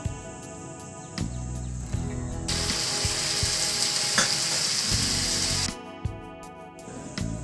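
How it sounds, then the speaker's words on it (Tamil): Onions frying in a pan for mushroom masala sizzle steadily, swelling to a louder, brighter hiss in the middle before settling back, with a few light clicks of stirring and no voices. "வெங்காயம் நல்லா வதங்கட்டும்."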